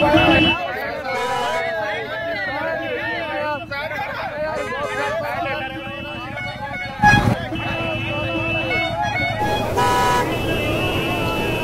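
Car horns toot repeatedly in a jammed Indian street, loud and close over steady engine rumble and crowd babble, with people talking in the vehicle throughout.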